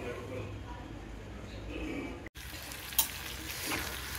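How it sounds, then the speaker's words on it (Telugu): Tomato pieces and green chillies frying in oil make a soft, continuous sizzle throughout, with one brief sharp clatter near the end. "బాగా వేయించుకుందాం."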